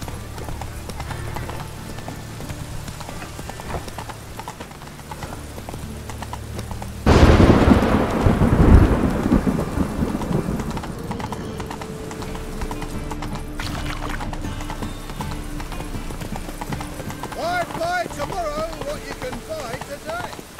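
Roach, a horse in The Witcher 3, trots with steady clip-clop hoofbeats, joined by a louder burst of rumbling noise partway through and game ambience throughout.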